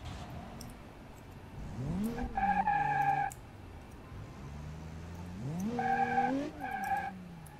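A diesel V8 BMW X5 in BeamNG Drive spins its wheels in two bursts, the engine revving up with rising tones and tires squealing, then settling to idle between them.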